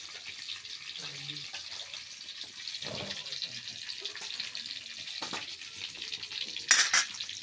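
Garlic, green chilli, cumin and turmeric tempering for moong dal sizzles in hot oil, a steady close frying hiss with a brief clatter of stirring near the end.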